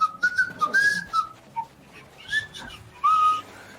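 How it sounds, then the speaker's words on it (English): A person whistles a short fishing song, a bright wavering melody of several phrases with sliding notes, close and clear with faint background noise. "You have to whistle a fishing song."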